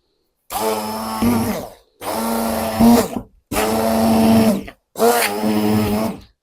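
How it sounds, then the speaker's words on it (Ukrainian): A blender whirs in four separate bursts, each about a second long, grinding cottage cheese, with brief silences between and a strained motor pitch that dips as it grinds. "Зараз перетираю блендером сир"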